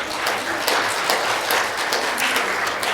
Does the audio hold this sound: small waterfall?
no